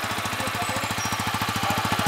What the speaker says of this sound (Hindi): इसका इंजन नोट देख लीजिए